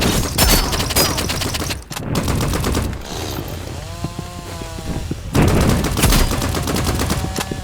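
Energy pistol fire in a video game, delivered as dense bursts of repeated shots, loud and close, with a short pause and a stretch of whirring electronic tones before a heavy volley resumes.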